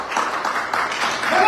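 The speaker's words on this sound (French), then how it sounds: "Applaudissez pour Apoutou parce que c'est le succès." An audience at a royal court gathering in Mali claps steadily and densely for a moment, filling the room with a close, continuous patter while a voice sounds faintly over it.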